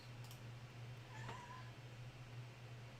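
A pet cat meows in the background during an indoor coding livestream, a brief rising call near the middle, faint and somewhat distant over a steady low electrical hum.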